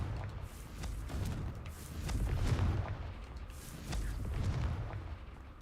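A Confringo fire spell from the Hogwarts Legacy video game goes off in a few deep, rumbling booming blasts, the loudest near the middle, with a low roar between them and no talking.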